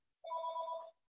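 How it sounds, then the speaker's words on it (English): A telephone rings once in the background indoors, a single bright electronic trill lasting under a second, fairly clear against near silence. "sorry about the phone in the background."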